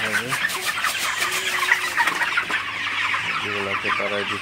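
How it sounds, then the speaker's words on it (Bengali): Several broiler chickens cluck nearby while drinking water, with short bursts at the start and a louder run of clucks near the end, over a steady background hiss. "তো পানি দেওয়ার পর মুরগিগুলো পানি খেতেছে।"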